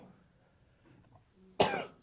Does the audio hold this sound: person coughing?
yes